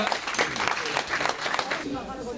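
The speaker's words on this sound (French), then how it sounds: "Nous pouvons encore applaudir s'il vous plaît" Audience applause at an evening civic ceremony in Toulouse, a steady patter of clapping hands sustained through the whole stretch, moderately loud and close, with some voices mixed in.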